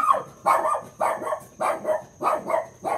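A dog barks loudly and close by in a quick, regular series of about six sharp barks, with no voices over them.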